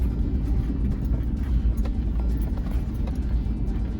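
A backhoe being driven rumbles with a steady, loud low diesel drone and some rattling, continuous throughout without speech.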